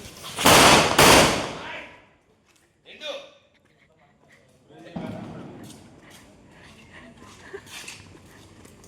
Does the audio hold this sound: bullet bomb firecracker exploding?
yes